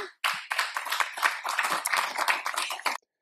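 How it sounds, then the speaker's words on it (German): An audience at a political talk show claps together in a brief burst of applause lasting under three seconds, fairly close, then stops abruptly. "die Vollidioten klatschen auch noch"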